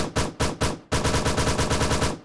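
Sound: AKM rifle firing in a video game weapon test

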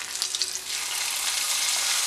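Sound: fried mustard seed tempering sizzling as poured into curry

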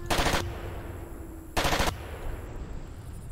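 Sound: Gatling gun firing in Far Cry video game

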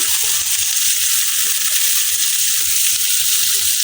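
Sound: chopped onions frying in oil

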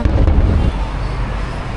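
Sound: fireworks in the sky

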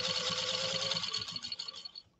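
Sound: 1949 Singer 15-91 sewing machine stitching elk hide

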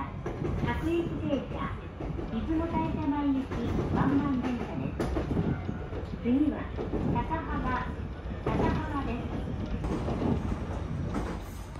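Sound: Ichibata Electric Railway train running on the Taisha Line

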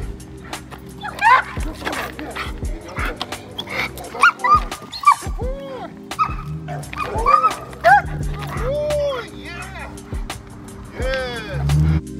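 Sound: protection dog barking during bite training exercise

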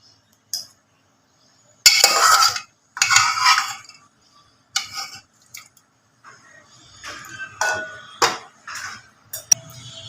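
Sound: draining boiled eggs and potatoes, pot clanking

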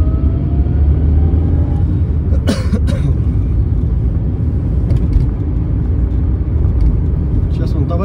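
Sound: car driving through city streets

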